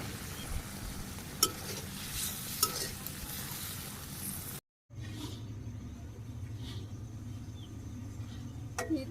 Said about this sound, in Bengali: ডিমগুলো ছেড়ে দিলাম, নাড়াচাড়া করে হালকা একটু জাল